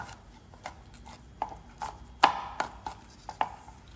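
A knife roughly chops garlic on a cutting board for Thai-style endives with ham, with several sharp, separate knocks at an uneven pace in a quiet kitchen.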